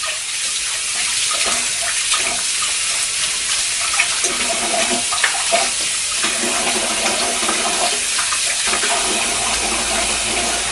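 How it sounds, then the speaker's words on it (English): Hands are washed under a running tap, the water streaming continuously and close by, with splashy fluctuations as the hands move through the flow. "I'm going to wash my hands off."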